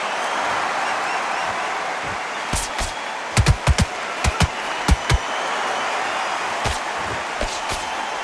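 Crowd at a boxing arena keeps up a steady dense buzz throughout, with sharp percussive claps or slaps cutting through it in scattered clusters, loudest around the middle.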